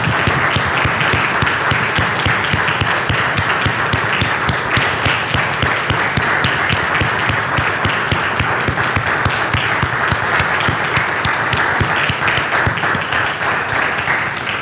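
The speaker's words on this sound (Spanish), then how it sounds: "le damos un aplauso al Señor" Church congregation applauding, a dense, sustained crowd of clapping that stays loud and even throughout.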